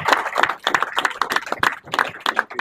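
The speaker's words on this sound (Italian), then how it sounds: "Un applauso, Caterina." Hands clapping at a school event in Manfredonia for Caterina, a speaker at an educational alliance gathering, heard as close, irregular individual claps from a small group rather than a full roar.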